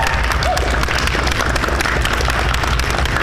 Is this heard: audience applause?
yes